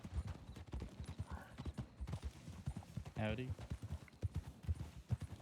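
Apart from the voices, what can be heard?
horse hooves clip-clopping in the video game Red Dead (RedM)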